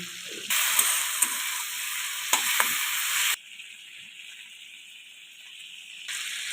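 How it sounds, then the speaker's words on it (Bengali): Prawns frying in oil with turmeric and a little salt, a loud bright hiss for a few seconds with some spatters and clinks, then dropping to a much quieter sizzle before rising again. "চিংড়ি মাছগুলো ভেজে নিচ্ছি হলুদ গুঁড়ো অল্প লবণ"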